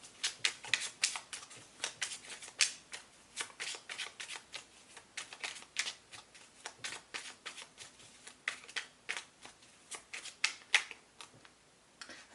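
Tarot cards shuffled by hand in a steady series of sharp, close flicks and riffles, repeating in short bursts with no voices.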